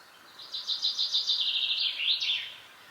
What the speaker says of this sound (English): a yellow sparrow, I think they're called